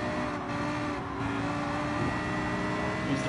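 Race cars in Gran Turismo Sport run together in a steady engine drone, mid-pitched and continuous with slight rising swells, no distinct passes.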